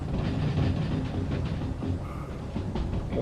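Train from the Derail Valley game, a light consist hauled by a DE2 locomotive down a steep grade, rolling steadily on rails with a continuous loud rumble and faint rhythmic clatter, no voices.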